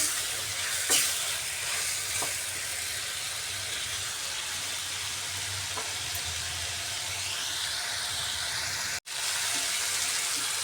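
Spices sauté with papaya and potato in an uncovered pan, giving a steady faint sizzle and hiss with occasional soft stirring scrapes and ticks.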